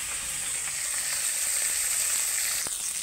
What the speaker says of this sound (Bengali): দেখো বন্ধুরা সব মাছগুলো আমার ভাজা হয়ে গেছে